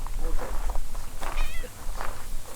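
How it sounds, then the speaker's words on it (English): Several cats meow at a rural Arizona home, a series of rising and falling cries spread across a few seconds, with a steady low hum and some background noise beneath. "There we go. Lots of cats."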